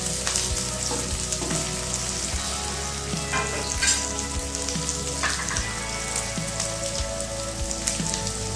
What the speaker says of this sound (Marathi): मिरची परतून झालेली आहे, त्यामध्ये आपण कट केलेले बटाटे टाकणार आहे